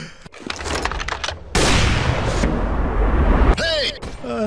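Rapid gunfire bursts in the Medal of Honor VR shooter game, loud close volleys with a sustained barrage in the middle, followed by chirpy electronic effects at the end.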